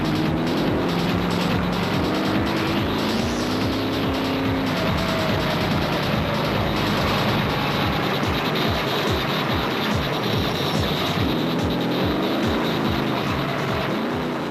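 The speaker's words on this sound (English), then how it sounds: "With Varyawa and Rousseau's 7-litre engine growling behind them" A 7-litre off-road rally car growls hard and loud nearby through an off-road race special, a dense, continuous engine roar with shifting revs that runs the whole time with no voices.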